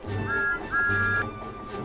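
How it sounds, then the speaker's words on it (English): A toy tank engine from a Bachmann model railway gives two bright, sustained whistle tones in quick succession, each held for about half a second over a low background rumble. "He whistled merrily as he chugged along the track"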